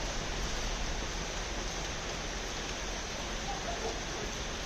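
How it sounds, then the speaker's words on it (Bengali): Steady broadband wash of rain falling at night, an even, continuous hiss with no distinct drops or voices, moderately faint and unchanging throughout. "এই দেখো কি বৃষ্টি হচ্ছে দেখেছো"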